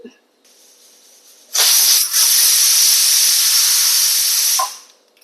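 A loud, steady hiss of steam jets out of a pressure cooker whistle for about three seconds, then cuts off, preceded by a softer background hiss.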